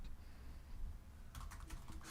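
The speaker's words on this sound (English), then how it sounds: "What are you typing? Send a quick email." Keys on a computer keyboard are tapped quietly, a faint patter that turns into a quick burst of distinct clicks in the second half, over a low room hum.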